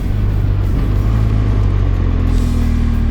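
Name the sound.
BMW R1200GS motorcycle upshifting with electronic quickshifter, no clutch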